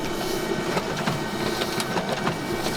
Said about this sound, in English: So you're using the color printer and we need it.